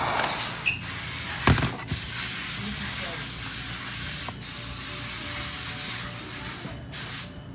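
A heat gun blows a steady, loud hiss of hot air into the glued back glass of a Galaxy S6, with a couple of brief clicks and bumps along the way.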